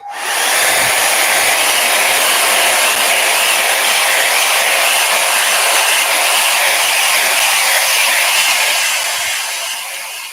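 A hair dryer blows steadily on layers of paint during a live painting session, a loud, constant whooshing roar that holds unbroken for about ten seconds before easing off slightly at the end, with no talking.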